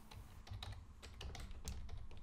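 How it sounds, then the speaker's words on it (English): Soft, irregular key clicks from a cheap, not very loud computer keyboard, close and quiet over a faint low hum, with no one speaking. "Such a cheap keyboard, it's the only one that's not extremely loud."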